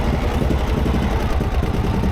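A 1937 Harley-Davidson Knucklehead motorcycle engine idling close by, a loud, steady low rumbling throb with an uneven pulsing beat and no talk.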